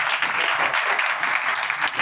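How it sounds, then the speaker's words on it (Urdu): A church congregation at a healing service claps loudly and continuously, dense applause filling the whole short stretch without pause. "آئیں اس یسوع کے لیے زوردار تالیاں بجائیں"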